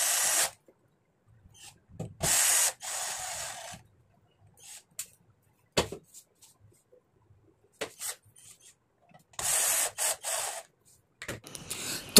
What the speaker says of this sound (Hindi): तो अब मैं एसएमपीएस के सभी स्क्रू को लगाकर एसएमपीएस को कंप्लीट कर देता हूँ।